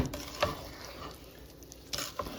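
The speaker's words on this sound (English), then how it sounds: "just keep stirring until all of your sugar kind of disappears into the mixture" A spoon stirs serviceberry and strawberry jam with sugar in a pot over heat, with a soft continuous sizzle and a few scraping strokes against the pot, close up with no talk.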